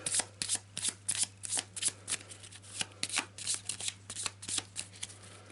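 Playing cards being shuffled for a tabletop adventure game, a quick run of crisp riffling flutters repeating in short bursts throughout, close and fairly quiet over a steady low hum, with no talking.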